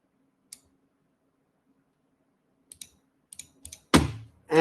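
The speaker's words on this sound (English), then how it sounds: "I type on it using the Epic Pen" Typing on a computer keyboard: a few sparse, sharp key clicks, then a quicker cluster of taps close by, ending in a louder thump and a rustle.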